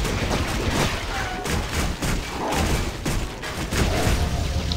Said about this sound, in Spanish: Fue esa explosión